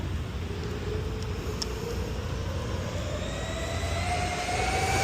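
An Arrma Quake RC car runs at full throttle, its electric motor giving a steady, loud whine that climbs in pitch, with a constant roar of wheel and drivetrain noise throughout.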